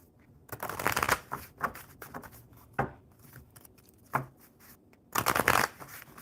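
Tarot cards are shuffled in several crisp riffling bursts, each a short flurry of papery snaps followed by a pause, close and fairly quiet.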